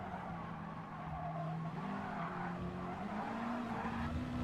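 A race car skids with a kick of oversteer, tires squealing in a sustained screech under a droning engine note that climbs steadily, heard fairly faint and steady throughout.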